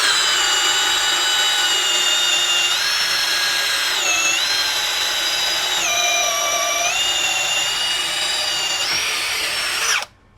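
An APR AP34+ cordless impact drill drives a 16 mm auger bit through a solid wooden beam, a loud continuous whining bore lasting about ten seconds, its pitch dipping as the bit loads up, then cutting off abruptly.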